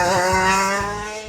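Racing kart on a track, its engine a steady high harmonic whine held close and loud, with pitch easing slightly as the driver lifts and coasts, low thumps underneath.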